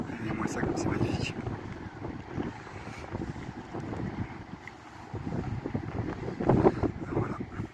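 Gusty wind blows steadily across the microphone by the sea below a fortress, a continuous low rumble with a stronger gust near the end, while a voice talks underneath.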